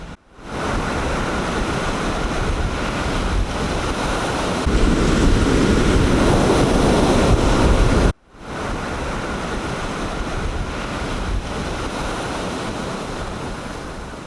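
Surf rolls in on a Pacific beach on the coast of Chile: a loud, continuous roar of breaking waves with heavy wind buffeting the microphone, interrupted once by a short dropout, and no voices.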